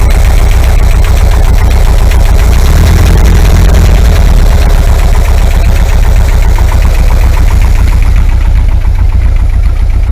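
A warm 2-litre air-cooled VW engine idles at about 850 rpm steadily and loudly up close, a continuous even rumble with a fine mechanical clatter throughout.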